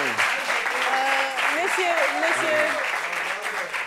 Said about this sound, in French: ça s'applaudit. Ça peut applaudir